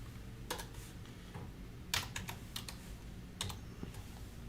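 Fingers tap a computer keyboard in quick, scattered clicks and short bursts, close and fairly soft, with no talking.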